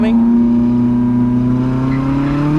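A Lotus Elise engine pulls hard on throttle through a hairpin, held in gear without shifting up to third, a loud steady drone with its pitch climbing slowly and evenly.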